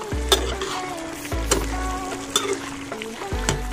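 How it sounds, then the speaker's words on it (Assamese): Chicken curry made with black chicken, Assamese style, with potatoes boiling in water in a pot: a steady bubbling simmer close up, broken by a few dull knocks and stirring sounds. "মই পানী দিয়াৰ পাছত এয়া ধুনীয়াকৈ উতলি আছে"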